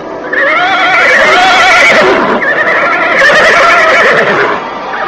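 Horses neighing loudly and close as their riders rein them to a halt, two long whinnies one after the other with faint hoof clatter.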